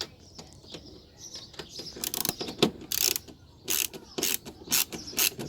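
Screw being turned out of a Toyota Yaris Mk1 part by hand, a series of close, dry ratcheting clicks and creaks in irregular bursts with short pauses between them.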